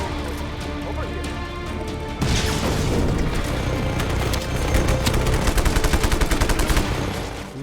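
Rapid gunfire from a Just Cause 3 battle at a large enemy base: dense automatic bursts and crackling shots pile up continuously, thickening into a loud, rattling fusillade near the end.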